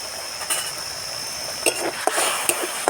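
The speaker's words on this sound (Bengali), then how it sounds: "এমনিভাবে নেড়ে নেড়ে আমি এটাকে পুরো জল মেরে নেব" Thankuni leaf mixture being stirred in a pan, a faint steady hiss broken by a few light clinks and scrapes of a utensil against metal.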